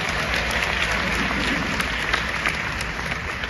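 Steady crowd applause from an audience at a South Dallas business and professional gathering, thick continuous clapping that holds at an even level throughout.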